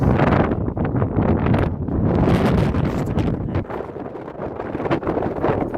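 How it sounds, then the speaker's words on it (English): Strong mountain wind buffeting the microphone while backpacking in the Wind River range, a loud continuous roar with gusting swells. "The wind is blowing like crazy."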